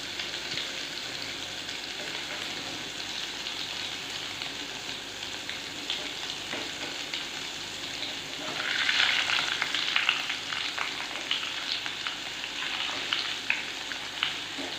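Taro chops sizzle in oil, a quiet steady crackle that swells louder and busier partway through, heard alone without talk.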